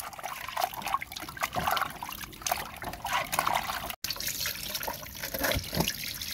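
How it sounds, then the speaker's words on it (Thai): Salted pickled mustard greens are rinsed in clean water, with close splashing, trickling and running water that shifts as the greens are handled, and no voices. "ล้างเกลือแล้วก็นํามาล้างน้ําสะอาดอีกทีนึงจ้า"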